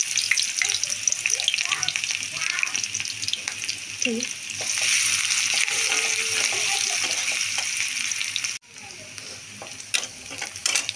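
Chopped onion frying in oil in a wok gives a steady, close sizzle that fills the clip, briefly dipping near the end before resuming.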